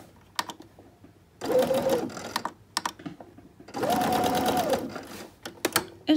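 A sewing machine stitches the seam of a fabric scrunchie in two close, steady whirring bursts, separated and followed by small clicks and fabric handling.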